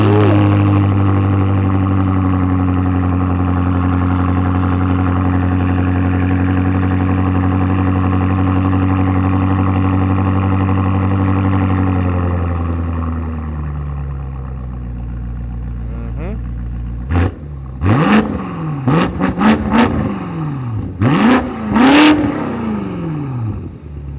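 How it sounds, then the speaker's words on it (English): A BMW M car's exhaust idles with a steady low drone that drops off, then sharp revs rise and fall in several quick bursts, loud and close. "he's gonna crank it up, give us some exhaust clips"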